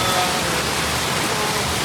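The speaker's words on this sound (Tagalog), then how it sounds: "sobrang lakas ang ulan" Heavy rain pours down in a dense, unbroken roar, loud and close throughout.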